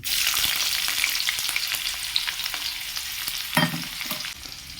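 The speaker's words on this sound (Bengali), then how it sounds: "5 ফোড়ন, শুকনো লঙ্কা, তেজপাতা, পেঁয়াজ রসুন ভালোভাবে ভেজে নেব" Panch phoron, dried chilli, bay leaf, onion and garlic frying in hot oil, a close, steady sizzle with occasional scraping stirs and a brief clunk near the end, no voices.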